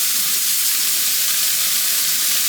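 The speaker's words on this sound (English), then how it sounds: "4 tablespoons of butter in there, along with my onions, my peppers, my minced garlic." Butter sizzles in a pan with onions, peppers and minced garlic, the base of a lobster Alfredo sauce: a steady, close, even hiss that holds for the whole stretch with no talking.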